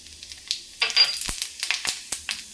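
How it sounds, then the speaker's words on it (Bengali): Panch phoron, a five-spice mix, hits hot oil left over from frying lentil fritters and sizzles. A bright, crackling spatter bursts out and keeps popping up close. Sharp pops and knocks cut through the crackle, and no one speaks. "আর এখন আমি এই তেলে ফোড়ন দিয়ে দিব 5 ফোড়ন"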